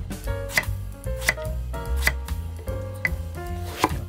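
A knife chops eggplant on a board into round slices, giving a crisp series of distinct taps at a steady, unhurried pace, close up with no talking.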